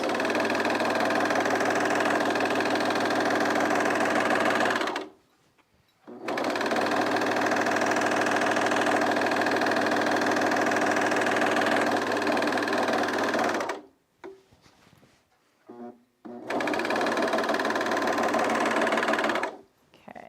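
A domestic sewing machine stitches in three long, steady runs of rapid mechanical whirring and needle clatter, broken by short pauses with a few faint handling sounds.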